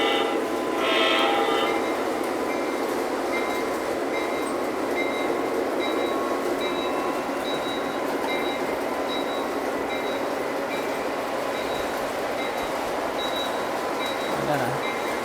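A Lionel model freight train with grain hopper and freight cars, run by a universal remote, rolls along with a continuous mechanical rumble, thin whine tones and occasional clicks, plus a short burst of noise near the start.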